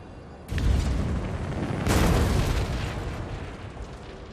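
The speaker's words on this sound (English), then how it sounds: "Come on, fireball." Fiery spell blast from King's Quest Chapter 4: a sharp boom bursts in at half a second, then a second roaring surge of flame near two seconds rumbles on loudly without talk.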